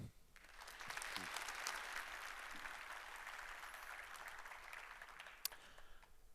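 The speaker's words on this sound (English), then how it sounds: "give today's quick speaker, Pontus Hellgren, a big warm applause" Audience applause welcoming a conference speaker, Pontus Hellgren, after a coffee break: steady, dense clapping from a room full of people, fairly loud and sustained for several seconds, tapering slightly near the end.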